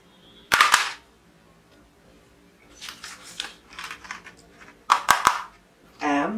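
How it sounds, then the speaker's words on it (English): A colorful plastic Indian local toy pistol firing in sharp snapping bursts, two quick shots near the start and again near the end, with softer clicking and rattling handling sounds between. "Plastic, colorful Indian local plastic toy pistol."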